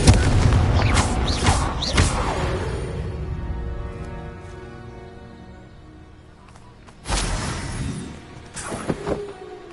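Confringo spell explosions in Hogwarts Legacy on PS5, a loud booming blast that rolls off into a long fading rumble, then a second heavy boom with crackling debris.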